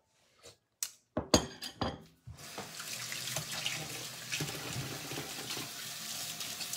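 A few sharp clinks of dishes, then a kitchen tap turns on and water runs steadily from the faucet into a sink for hand washing, close and moderately loud.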